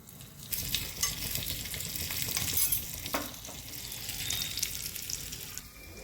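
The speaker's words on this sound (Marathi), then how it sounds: "आपल्याला अशी तुपाची फोडणी करायची, म्हणून मी मिरच्या आधीच घातल्यात." Ghee tempering with green and red chillies and cumin sizzles and crackles steadily in a pan while preparing surali vadi, a continuous frying hiss with small pops, fairly close and alone.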